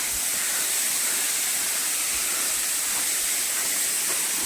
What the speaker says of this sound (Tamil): சல சல சலன்னு ஊற்றிட்டு இருக்கு தண்ணி